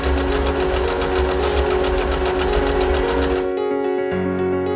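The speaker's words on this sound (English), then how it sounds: "The Usha Empress is an intelligently designed, lightweight, zigzag sewing machine with a carrying handle." A Usha Janome Empress lightweight zigzag sewing machine runs steadily with a dense mechanical whir and rapid needle rhythm, loud and close, then stops abruptly near the end, leaving a faint hum.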